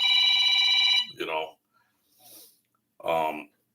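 A telephone bell rings steadily and loudly for about a second, then cuts off as a person speaks briefly in short bursts.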